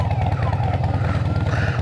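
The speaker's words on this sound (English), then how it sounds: "You set off a car alarm." A wailing electronic car alarm sweeps up and down over a low, rumbling Harley motorcycle engine idle nearby, loud and continuous.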